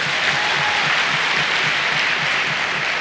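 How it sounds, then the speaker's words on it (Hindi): An audience at a business training seminar applauds: dense, steady clapping that holds at an even level throughout, with no voices over it. "एक बार जोरदार ताली आप लोगों के लिए"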